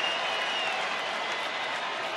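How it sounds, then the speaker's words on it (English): A baseball stadium crowd cheers and applauds in a steady, dense roar that holds at an even level throughout, with no distinct voices standing out. "Crowd getting energized."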